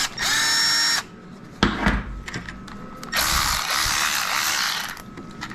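A cordless power drill whirs in two loud bursts, one at the start and a longer one later, with clicking and clunking between them in a small metal shop.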